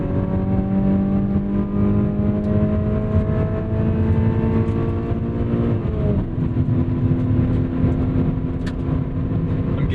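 A Mazda Miata NC engine at full throttle fills the cabin with a steady, close drone whose harmonics climb slowly in pitch, with one brief dip partway through, and no voices.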